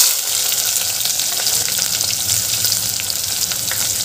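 Curry leaves and onion sauté in hot oil in a pan for a traditional spinach dal, a loud, dense, crackling sizzle with faint stirring scrapes running steadily throughout, no voices.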